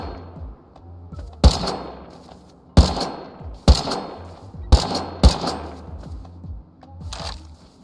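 Gunfire in the survival video game Rust: several sharp, loud shots in an irregular burst pattern, each with a short echoing tail over low background ambience.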